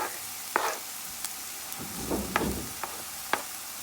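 Garlic sizzles softly as it is added to a pan of sautéing onions, with quiet frying crackle and a few light utensil clicks and scrapes.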